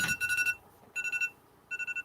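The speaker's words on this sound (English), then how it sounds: "There's that timer." A meditation timer alarm chimes in three short bursts of rapid electronic beeps separated by brief pauses, clear and fairly close.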